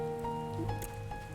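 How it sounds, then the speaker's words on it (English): Rain falling in Thavnair in Final Fantasy XIV Endwalker, a soft, steady patter at low volume mixed with tonal game music and small chimes, with no one talking. "I wish the rain stopped right now"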